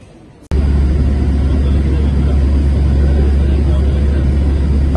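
A deep, loud, steady engine roar sets in abruptly after a brief quieter start, with continuous rumbling jet noise near an airliner on the apron at Doha airport.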